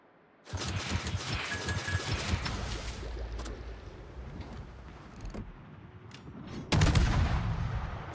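Naval guns of a Tier 9 light cruiser, the Korean Sejong, fire in the game World of Warships: a heavy booming salvo opens, sharper reports follow, and a loud final blast lands near the end, all without voices.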